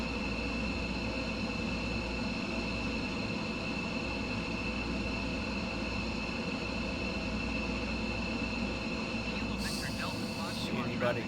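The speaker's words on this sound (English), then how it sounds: "Do a full afterburner takeoff here." Small amphibious light aircraft, a flying car, taking off at full afterburner, with a loud, steady engine roar and propeller drone filling the whole stretch, close and constant.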